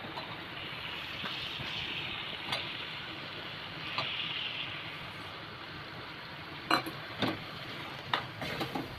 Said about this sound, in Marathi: आता यामध्ये मी वांग आणि बटाटा घालून देते